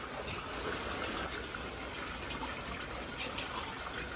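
Onion pieces being rinsed in a vessel of water for an Adivasi-style onion dish, giving a steady, close sloshing and gushing of water throughout with no speech.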